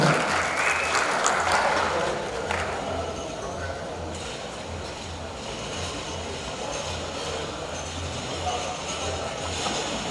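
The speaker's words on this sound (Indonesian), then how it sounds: "Kita sambut dengan tepuk tangan yang meriah." Audience applause at the installation ceremony and work meeting of the Palu City KONI sports committee, steady and sustained throughout with crowd noise and a low hum beneath, loud at first then settling slightly.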